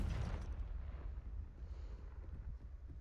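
A deep, rumbling blast from a Confringo spell in Hogwarts Legacy opens loud and rolls into a sustained low roar that fades slowly over a few seconds.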